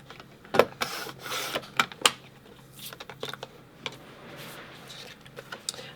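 Paper being trimmed for a Christmas scrapbook page, giving a series of close, crisp cutting clicks and soft paper rustles in an irregular rhythm with no talking.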